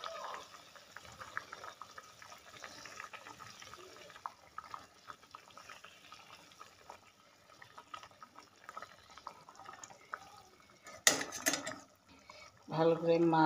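Salted lota fish drop into a pot of boiling water with a sudden brief splash, followed by bubbling and clinking from the pot, after a quiet stretch with soft speech and kitchen noise.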